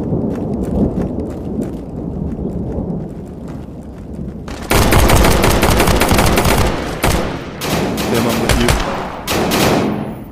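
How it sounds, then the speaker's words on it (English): Gunfire in a VR shooter game bursts out loudly and keeps going as dense rapid shots, cutting in sharply after a quieter stretch with scattered pops, with faint voices underneath. "Upstairs, got gunshots."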